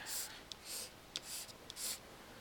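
Pen or pencil scratching out a handwritten answer in short bursts, four soft scribbling strokes separated by brief pauses, with a few light taps between them, close and quiet.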